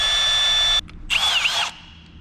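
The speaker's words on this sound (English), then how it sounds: "I don't know who messes with the drill around here, but they always set it to slow mode" A power drill whining at a steady high pitch, then cutting off and spinning up again in a short burst, close and loud, in a garage while working on a 1968 Chevrolet big block pickup truck.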